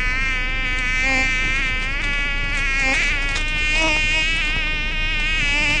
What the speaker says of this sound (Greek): Τελειώσανε οι μύγες.